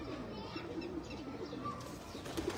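A pigeon beating its wings close by, soft fluttering bursts over a quiet outdoor murmur, with a faint coo or two and no clear speech.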